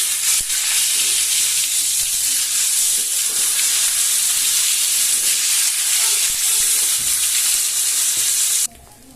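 Chandani fish pieces fry in hot oil after being flipped, a loud, close, unbroken sizzle with light crackle that cuts off abruptly near the end.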